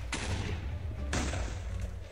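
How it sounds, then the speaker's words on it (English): Explosions in the Minecraft video game: two loud booming blasts about a second apart, each a sharp broadband burst that decays into a rumbling tail over steady low background noise. "I hear explosions, and people are dying."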